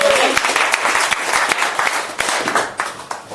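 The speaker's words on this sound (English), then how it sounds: "Big round of applause." Loud, sustained applause from a crowd, many hands clapping together at close range.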